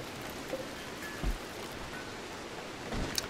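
Rain falls in the video game Rimworld as a soft, steady hiss of in-game rainfall, faint and continuous, with a couple of brief thuds and no talking.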